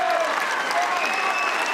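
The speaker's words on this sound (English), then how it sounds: "Raucous reaction from this show court 3 crowd." A crowd at Wimbledon's Show Court 3 applauds and cheers loudly after a wheelchair tennis point, a dense, continuous roar of clapping with whistles on top, close and sustained.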